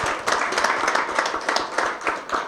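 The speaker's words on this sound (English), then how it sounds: "Shall we give him another round of applause, ladies and gentlemen?" An audience at an agricultural financiers' breakfast applauds: steady, fairly loud clapping from a room of many hands, continuous and dense throughout with no voices over it.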